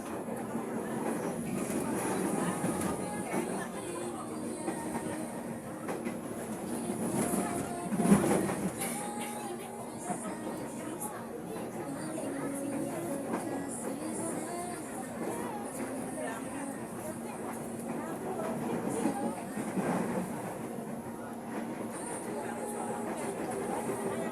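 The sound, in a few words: KRL commuter train running, Bogor to Manggarai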